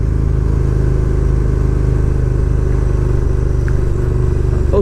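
A 2019 KTM Super Duke R motorcycle engine running close and very loud, a steady throbbing low rumble with fast regular firing pulses, heard alone on an empty road.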